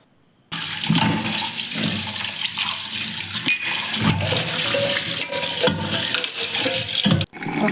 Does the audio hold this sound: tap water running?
yes